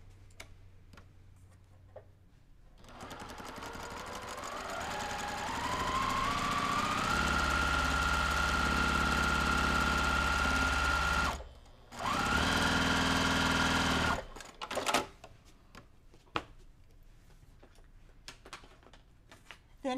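Sewing machine running a quilt seam, its motor humming steadily with a rapid ticking stitch rhythm for several seconds, pausing briefly, then resuming before stopping, with quieter handling sounds afterward.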